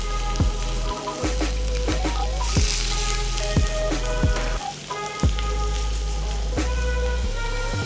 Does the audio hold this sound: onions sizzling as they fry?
yes